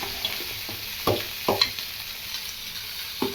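Mint leaves sautéing in sesame oil over a slow flame, a steady soft sizzle broken by several sharp scraping stir strokes, close and without speech.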